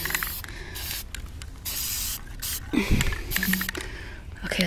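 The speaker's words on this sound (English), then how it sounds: "Ugh, I hate spray paint. Stuff's nasty." Aerosol spray paint can hissing in bursts while coating a glass cauldron prop, the spray rising and stopping several times amid handling clatter and rustling, close and moderately loud.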